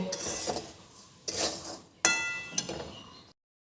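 Cutlery and a pan clink and clatter in a home kitchen as a pan of ghee-fried semolina for suji naru is taken off the stove, a few sharp metallic knocks and scrapes spaced over a few seconds, close and fairly quiet.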